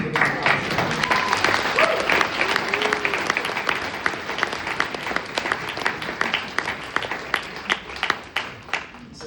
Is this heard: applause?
yes